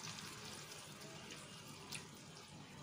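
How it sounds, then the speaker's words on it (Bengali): Water pours steadily into a pan of Bengali-style pineapple chutney, a continuous broadband splash running the full few seconds at a close, even level with no talking. "আমি সামান্য একটু জল অ্যাড করে দিচ্ছি এর মধ্যে"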